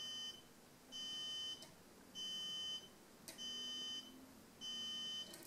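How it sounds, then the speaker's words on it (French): A Chainlink GPS tracker in micro power mode emits faint, steady electronic beeps, four tones roughly a second long repeating about every 1.2 seconds over quiet background hiss. "Le bip qu'on entend, c'est simplement parce que j'ai mis mon Chainlink en micro power mode."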